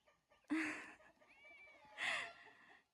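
A kitten on a farm with hens and ducklings gives two short, faint meows about a second and a half apart, with quiet background between them.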